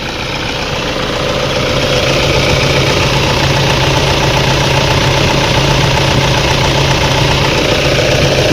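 A Toyota Vigo Smart 2.5E pickup engine idling, a loud, steady, close diesel rumble with a faint knocking texture and no talk over it.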